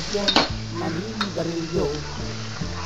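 Pork and tofu being stirred in a sizzling frying pan, with scraping utensil strokes over a constant hiss, close and fairly loud, with no clear speech.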